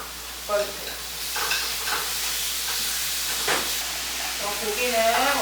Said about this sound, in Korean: 이렇게 색깔 내주시면서 한쪽으로 고기를 볶아주세요.